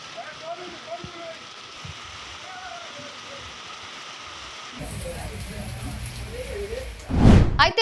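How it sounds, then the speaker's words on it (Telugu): Heavy rain pours steadily onto Hyderabad streets, a dense continuous wash that grows louder partway through and ends with a brief loud burst. "వర్షం దంచుకొట్టడంతో నగరవాసులు ఇబ్బందులు పడ్డారు"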